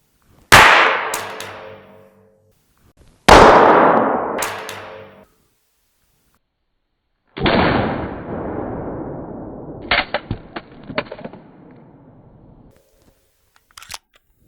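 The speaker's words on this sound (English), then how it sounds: "It did fire. That's the first time and it was a solid drop." A pistol dropped onto a hard surface in a drop test, going off on impact with a sharp primer strike; two loud, abrupt bursts ring out early, followed by a later clattering impact with scattered rattles, no talking.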